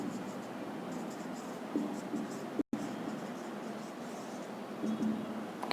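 Chalk or marker writing a chemical empirical formula on a board in a classroom, soft steady scratching strokes, fairly faint, with a brief break midway and no clear talk.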